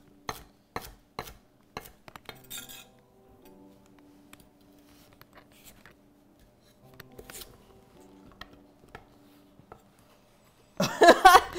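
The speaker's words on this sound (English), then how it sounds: "We can finish chopping this up. So just a rough chop." Food gets a rough chop into roughly inch-sized pieces for chicken pozole verde, sharp knife knocks on a board coming in quick clusters with pauses, ending in a louder rattling burst.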